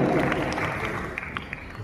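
Audience applause for a female singer at a stage show, a steady crowd clapping under a presenter's voice, with a few sharper claps near the end.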